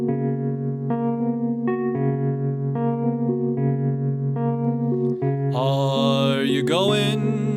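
A folk arrangement plays as a recorded song, with sustained tones in steady phrases that grow busier and brighter near the end, loud and continuous without speech.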